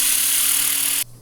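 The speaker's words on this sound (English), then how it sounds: "We're just sanding." A power sander runs on a wooden turned platter with a loud, steady whirring hiss that cuts off abruptly after about a second, leaving a low hum.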